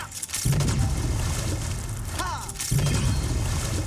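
Steamer torpedo spell cannon effect from Dofus Unity, a heavy booming blast with shattering crash layers, firing twice about two seconds apart over a dense rumbling backdrop, with a short whistling sweep between shots.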